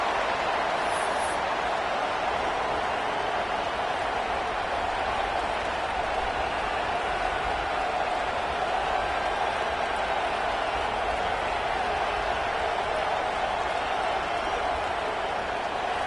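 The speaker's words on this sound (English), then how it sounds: "This crowd ready to make its presence known." Large stadium crowd at a college football game against USC, a continuous loud roar with swelling cheers and applause sustained for the whole stretch.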